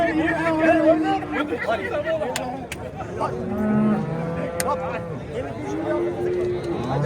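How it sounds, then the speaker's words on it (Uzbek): Cattle low repeatedly at the Yangiqurgon livestock bazaar in Oqdaryo, several drawn-out moos near and far amid constant crowd chatter and people talking nearby. "Sigir."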